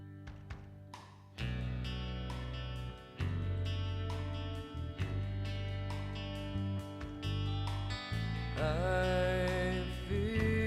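A song: a melodic band recording with clear struck note onsets and sustained tones that swell in loudness partway through, with no talking.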